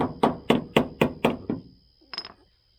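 Hammer tapping down a dent in the steel body of a 1969 Chevy van, six evenly spaced ringing metallic strikes close up, then a quieter clink after a short pause, with no talk.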